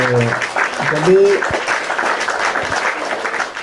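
Applause from a group fills the background, a steady patter of clapping under people talking.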